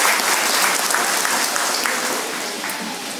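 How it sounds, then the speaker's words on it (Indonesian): An audience at a regency candidate debate in Aceh Barat claps together, a loud, dense round of applause that tapers off slightly toward the end. "mari tepuk tangan kita bersama untuk kita semua"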